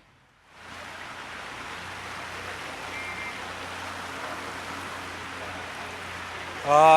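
Heavy monsoon rain pours over Chooralmala in Wayanad during rescue operations, a steady, dense roar that starts abruptly after a brief quiet moment and holds loud and even throughout.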